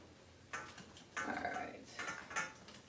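A heavy pan being lifted and shifted by hand in a home kitchen, giving a few metallic clanks and scrapes in short bursts, fairly close and moderately loud with no talking.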